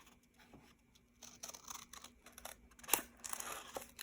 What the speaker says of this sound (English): we are going to take the scissors and then cut this side profile thing out